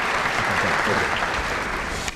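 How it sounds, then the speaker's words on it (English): Brief, steady applause from a crowd at a Hall of Famous Missourians induction ceremony, a dense patter of clapping at moderate volume that continues without pause. "Let's give all these people a round of applause."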